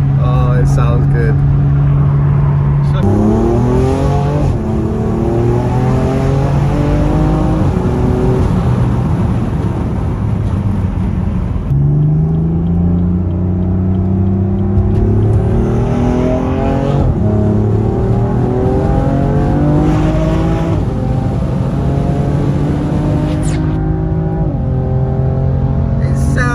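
A BMW M4 tuned to stage 2 with 520 bhp and decat exhaust accelerates hard on the road. Its engine note climbs through repeated gears in loud, rising sweeps, with brief shift breaks, heard close from inside the car.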